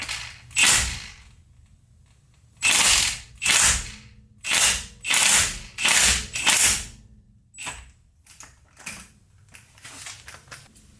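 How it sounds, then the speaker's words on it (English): Ratchet wrench working the differential fill plug on a Toyota Tacoma, with loud bursts of rapid clicking in repeated strokes, several long pulls followed by shorter, quieter ones, close to the listener with no talk. "we're gonna go ahead and break the fill plug first"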